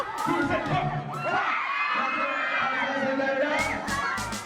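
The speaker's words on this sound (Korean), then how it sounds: "무더운 날씨에도 사인회장을 가득 메운 팬들의 환호가 들리고" A crowd of K-pop fans, many of them young, cheers and shrieks at a packed BTS fan signing event on a hot day, loud and continuous, with excited voices rising throughout.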